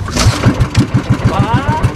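A motorcycle engine, in an area recovering from a flood, catches and runs with a steady, rapid low chugging pulse, loud and close throughout.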